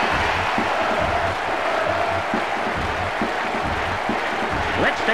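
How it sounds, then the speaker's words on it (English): A stadium crowd in International Superstar Soccer 98 on the Nintendo 64 roars and applauds after a goal, a steady, dense wall of cheering that holds for the whole stretch. "It's in! No question about that one. What a noise! Listen to the crowd!"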